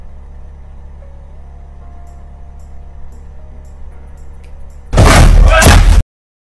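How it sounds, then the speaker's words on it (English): A door slams in a home shared with a dog and cat: a single loud, sharp bang near the end, after a long stretch of quiet low hum. "or did you open the door?"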